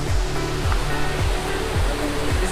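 Krang Suri waterfall pouring in a steady, dense roar of falling water, loud and continuous throughout, with a faint low rhythmic pulse underneath.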